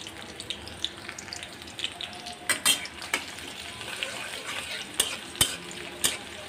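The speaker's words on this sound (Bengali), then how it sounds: "এখানে আমি কিছু রসুন কুচি দিয়ে দিলাম, কারণ রসুন কুচিটা দিতে হবে ডালের মধ্যে" Chopped garlic frying in a pot of red lentil (masoor) dal with a bay leaf, giving a steady close sizzle broken by sharp clinks and scrapes of a stirring spoon.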